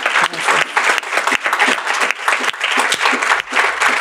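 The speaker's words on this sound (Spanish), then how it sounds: "Le damos un aplauso" Dense audience applause for a guest at a talk show, loud and continuous with sharp individual claps standing out throughout.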